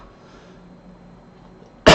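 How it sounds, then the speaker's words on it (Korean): A single sharp, loud cough from a throat cold bursts out at the very end after near silence. "기침이 계속 나오는데."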